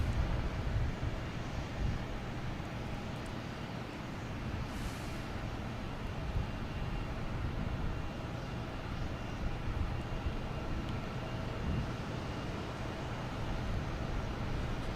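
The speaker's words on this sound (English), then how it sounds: "There's a Gulfstream coming from parts unknown." A Gulfstream business jet at Boston Logan Airport gives a distant, steady, low roar that holds for the whole stretch, with some wind noise on the microphone.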